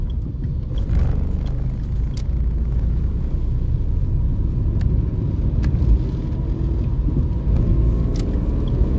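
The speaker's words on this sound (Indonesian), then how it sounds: "Ini mobil dari tadi di belakang gue mulu." A car driving on a road, a steady low rumbling engine and tire noise that stays fairly loud and constant throughout, with a few faint clicks over the drone.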